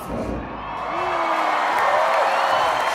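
A concert crowd at a show in Dornbirn cheers and applauds, a broad wash of whoops and clapping that swells steadily and stays loud to the end.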